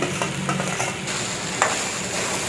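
Sabudana khichdi with boiled potato being stirred in a pan: a spatula scrapes and turns the mixture over a soft continuous sizzle, with a few sharper scraping strokes.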